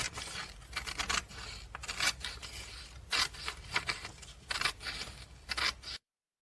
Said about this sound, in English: And now we cut these strips for you